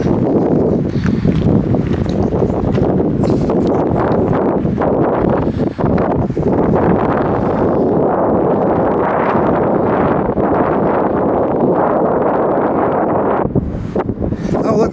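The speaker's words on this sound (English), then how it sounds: "you can hear that wind whipping" Strong wind whipping across a hilltop beside the site of an old fire tower, loud and gusty buffeting against the microphone throughout, with faint footsteps or shuffling under it.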